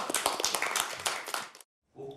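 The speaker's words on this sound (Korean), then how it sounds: "당 지도부들이 일제히 전현희 최고위원을 향해 박수를 칩니다" Party leaders at a Democratic Party supreme council meeting clap together for a council member, a brisk burst of close applause that cuts off abruptly, followed by a brief silence and then the start of a voice.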